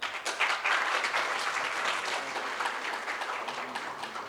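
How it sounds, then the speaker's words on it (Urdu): Audience at a political gathering clapping steadily, a dense, moderately loud patter of many hands throughout with no talking. "آپ خود سے اپنی حوصلہ افزائی کریں اور تالیاں بجائیں۔"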